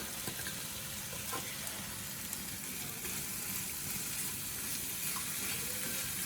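Dried vanjaram fish (karuvadu) fries in a pan for thokku, producing a soft, continuous sizzle with occasional light crackles and stirring sounds, heard close and fairly quiet.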